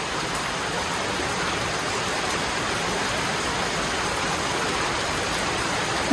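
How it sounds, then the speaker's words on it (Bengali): Heavy rain pours down under bright sun in Bangladesh, a dense, even hiss of falling water that holds steady and loud throughout. "পুরোপুরি রোদের ভিতরে কীরকম বৃষ্টি পড়তেছে"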